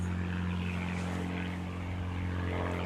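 A propeller airplane passes overhead outdoors beside a koi pond, a steady loud droning hum with strong low harmonic tones that holds continuously throughout.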